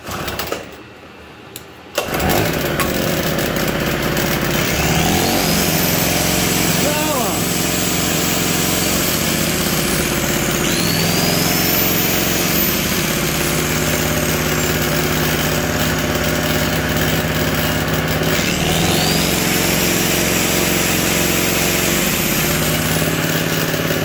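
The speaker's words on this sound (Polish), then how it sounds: "Podłączę, uruchomię agregat i sprawdzimy, czy ta szlifierka będzie pracowała i jak będzie zachowywał się agregat." Small TG-950 portable petrol generator running steadily while powering an angle grinder, a continuous buzzing engine drone with a high whine that rises and falls under load, preceded by a brief quieter moment at the start.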